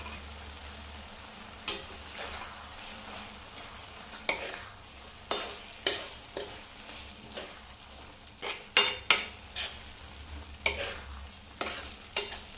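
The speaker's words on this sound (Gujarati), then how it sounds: "પનીરને બરાબર મિક્સ કરી દઈશું મસાલા ભેગું." A spoon stirs paneer bhurji with masala in a pan, making repeated sharp scrapes and clinks against the metal at an uneven rhythm over a quiet, low sizzle, close up with no talking.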